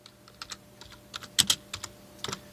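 Fingers type a folder name on a computer keyboard, a short run of crisp clicking keystrokes with a few sharper, louder taps near the middle, close and clear over a quiet background.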